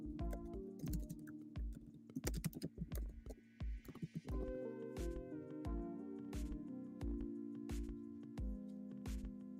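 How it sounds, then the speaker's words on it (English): Tarot cards are shuffled by hand in quick bursts of dry, papery clicks and riffles, close to the microphone, over steady background music. "I'm about to shuffle for you."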